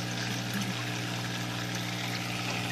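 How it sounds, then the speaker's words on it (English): A Fluval Aquaclear 50 aquarium filter draws water up its intake tube, producing a quiet, steady trickling and pouring flow over a low constant hum. "You fill it up so you see that it's sucking water up the tube"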